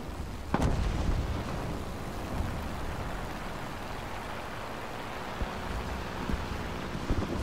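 A bomb explosion in the War Thunder video game, heard as a dull sustained rumble with a sharp burst near the start and fainter thuds later, over constant engine and battle noise.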